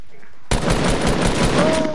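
Video game gunfire erupts abruptly after a quiet moment into a loud, continuous automatic burst of rapid shots that carries on to the end.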